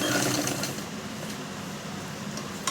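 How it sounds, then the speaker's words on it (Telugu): A sewing machine running steadily while stitching a blouse lining, a continuous close mechanical whir that holds at an even level throughout. "నెంబర్ 5లో పెట్టుకొని స్టిచ్ వేసుకోవాలి."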